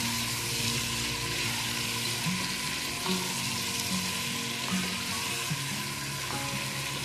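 Two tablespoons of carom seeds (ajwain) sizzle in hot oil in a pan while arvi cooks, a steady close crackle with a few faint clinks and no voices.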